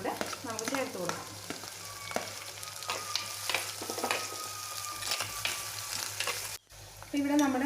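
Sliced onions with green chilies and curry leaves frying in a pan for Kerala-style mackerel fish curry, a steady close sizzle with frequent stirring scrapes, ending with a short gap and then a voice speaking.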